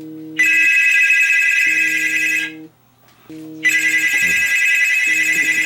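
A phone call rings through a BenQ treVolo U Bluetooth speaker, two loud bursts of an electronic ringtone, each a couple of seconds long, with a short gap between them and no talk.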